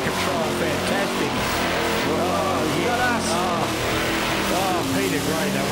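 Specially built burnout competition car carrying extra plumbing and extra water, at a 2004 Burnout Masters pro series event, roars loudly and continuously with revving engine and squealing, spinning tyres, while a commentator talks over it.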